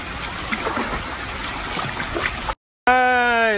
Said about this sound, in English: About to take a cruise down the lazy river.